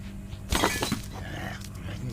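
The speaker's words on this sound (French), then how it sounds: "c'est casser des pots de fleurs" Flower pots smashed by a cat in the video game I Am Cat, a sharp crash and shatter with scattering debris over a game soundtrack.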